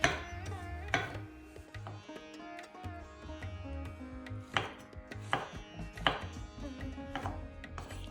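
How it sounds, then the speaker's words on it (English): A knife chopping plum tomatoes into chunks on a board, close up: a series of sharp, uneven cuts and thuds at a loose rhythm over about eight seconds, with no talk. "Remove the tops of the tomatoes and slice into chunks."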